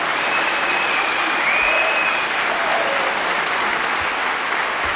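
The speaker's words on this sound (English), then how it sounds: "Oh, I know how to get a round of applause now." Audience applause fills a cross-party political debate hall on TTIP, steady dense clapping from a sizeable crowd lasting throughout without pause.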